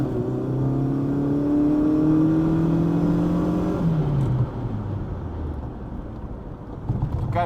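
A barn-find Volkswagen Golf 1 GLI cabriolet engine revs up and holds high, its tone climbing in sweeping harmonics before dropping back to a rougher, lower idle partway through, loud and close with no talk.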